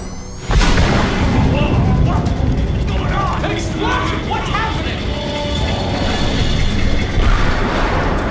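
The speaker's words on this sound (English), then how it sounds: "Explosion! What's happening?" A sudden loud explosion bursts out in the Chronicles of Riddick video game, then settles into a sustained roaring rumble with mechanical clanks and alarm-like tones, while voices talk over it.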